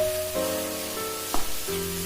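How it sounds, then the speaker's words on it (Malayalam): Steady sizzling of onions sautéing in a pan until browned, with a brief stirring scrape midway and a faint tonal hum in the background. "ബ്രൗൺ കളർ ആകുന്നിടം വരെ നമുക്ക് വഴറ്റേണ്ടതാണ്"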